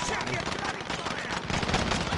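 Rapid gunfire from Call of Duty Warzone, a dense crackling burst of shots running throughout at steady loudness with faint voices mixed in.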